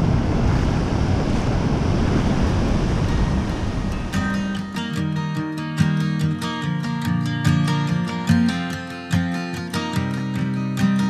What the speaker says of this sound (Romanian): Uai, doamne, ce valuri sunt.